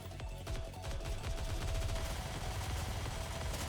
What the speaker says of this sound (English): Amidst the hail of gunfire, EH falls to the ground, blood seeping from a newly formed bullet hole